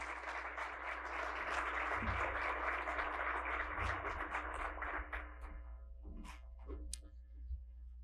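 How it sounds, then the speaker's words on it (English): Audience applause for the mayor at a State of the City 2023 address, a steady sustained wash of clapping from a large crowd that thins out toward the end, leaving scattered claps. "Let's have another round of applause for the mayor."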